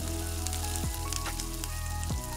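Green chillies frying in hot oil in a pan while chilli chicken is cooked, a continuous loud close sizzle with a couple of brief scraping clanks of a utensil, no talk.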